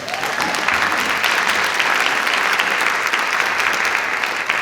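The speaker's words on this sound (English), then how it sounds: "And let's give that a round of applause." Lecture audience giving a steady, dense round of applause for a college STEM grant announcement, continuous clapping from a large room held at an even, loud level throughout.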